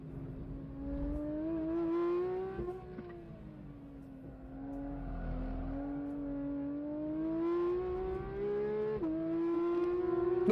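Porsche 992 GT3 RS lapping a race track, heard from inside as a loud, steady engine drone that rises and falls through gear changes and throttle lifts while coming down a hill.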